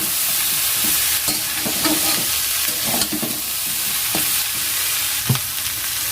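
Spiced curry is stirred in a sizzling pan, repeated scraping strokes of a spatula cutting through a steady close frying hiss.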